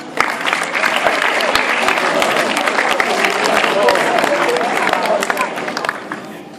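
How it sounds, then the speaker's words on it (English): An audience at a school leavers event breaks into loud, sustained applause, dense clapping that holds for several seconds before thinning out, with some crowd voices mixed in. "give yourself some round of applause"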